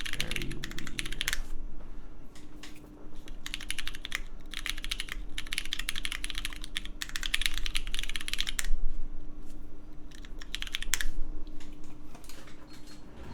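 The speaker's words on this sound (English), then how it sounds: "Typing on my chat on the keyboard is very weird." Rapid bursts of keystrokes on a Machina Cloudnine R2 mechanical keyboard, clicking in uneven runs with short pauses, close and clear throughout with no talk.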